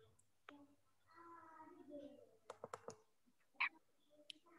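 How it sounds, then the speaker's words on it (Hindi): Two sharp, quick clicks in the setting of a web page's click events, set amid a few other taps, with a voice talking briefly before them. "अभी मैं 2 बार क्लिक की आवाज़ सुनाता हूँ।"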